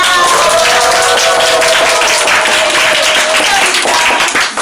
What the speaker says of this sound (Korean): 큰 함성과 박수로 저를 환영해 주시기 바랍니다